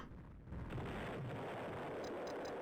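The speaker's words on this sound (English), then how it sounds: "It's the Leviathan explosion. Incredibly powerful." A Leviathan ship explodes in the space game EV Nova, a loud roaring blast that swells and rumbles on with a crackling tail, heard alone.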